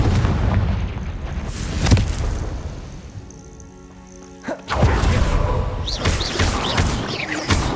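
Confringo blasting-curse explosions in the Hogwarts Legacy video game: a heavy boom near two seconds, a lull, then a louder, sharper blast that rolls into a noisy, rumbling aftermath.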